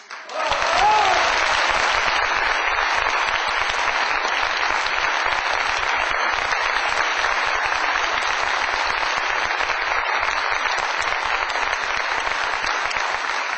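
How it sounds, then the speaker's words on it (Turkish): Loud, sustained applause fills the hall at a parliamentary party group meeting, dense clapping that stays steady throughout with a few faint voices mixed in. "Arkadaşlar ne olur, ne olur alkışlamayın."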